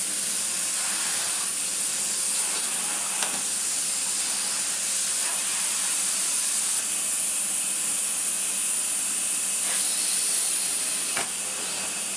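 A Numatic vacuum cleaner running with a floor head that draws heavy airflow, a steady loud hissing rush of air with faint tonal whine, unbroken throughout and with no voices.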